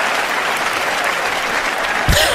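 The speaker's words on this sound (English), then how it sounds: "Listen to how the crowd's roaring" A comedy show audience bursts into loud, sustained applause and roaring, a dense wash of clapping that holds steady throughout, with a brief low thump near the end.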